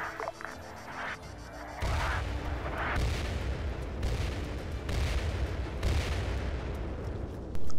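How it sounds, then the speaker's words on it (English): Simulated artillery strike in the ARMA 3 video game: several heavy booming impacts land at intervals of about a second, each a loud low thud with a rumbling tail, after a quieter opening. "To simulate an artillery strike, you can hold down control while placing modules."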